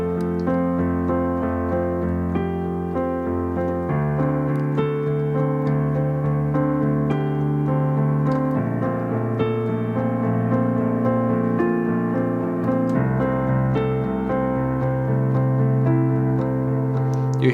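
Solo piano plays a sustained accompaniment from a song, with a steady rhythmic bass line in the left hand beneath chords, continuous and fairly loud throughout.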